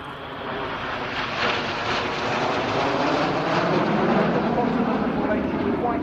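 Red Arrows RAF jets roar overhead at an air show display, a broad steady rumble that swells slightly midway and stays loud throughout, with a commentator's voice faintly audible beneath.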